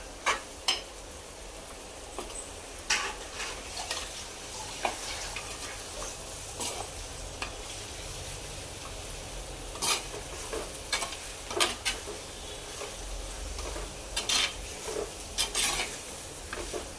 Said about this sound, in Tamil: வாஷ் பண்ணி வச்சுருக்க சிக்கனை சேர்த்துக்கோங்க. இப்போ அந்த இது மசாலாவோடு சேர்த்து நல்லா கிண்டுங்க.